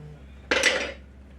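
A spoon and dishes are set into a kitchen sink while cooking skillet biscuits and gravy, making a single sharp metallic clatter that rings briefly, close by, against low background hum.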